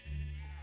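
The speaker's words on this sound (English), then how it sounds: "Wait, are there sheep in here?" A short, steady bleat from a Minecraft sheep, a sustained buzzy tone at moderate volume that holds for under a second with no talking over it.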